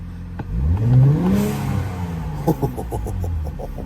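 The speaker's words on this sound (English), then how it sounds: "we gotta give it a little rev" A car engine at an auction is given a single rev, rising quickly to a loud throbbing roar before falling back to idle, followed by a few sharp clicks over a steady hum.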